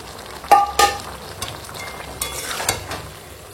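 Fried eggs and boiled potatoes stirred through spices in a pan, with a couple of sharp spatula scrapes and knocks over a low, continuous sizzle, close and moderately loud.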